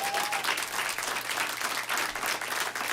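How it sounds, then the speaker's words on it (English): Steady, dense applause from a theater audience following a magic trick at a Las Vegas stage show, continuous and full throughout with no break. "now is whenever that you can open your hand and take some applause"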